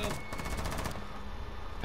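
Rapid burst of gunfire in a shooter video game, loud crackling shots packed into the first second, then a quieter tail with another brief burst at the end.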